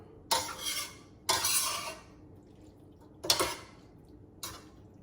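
Pasta being stirred in a pan for a homemade dirty pasta dish, heard as four separate bursts of scraping and clinking utensil against the pan, close and fairly loud with quiet gaps between them and no talking.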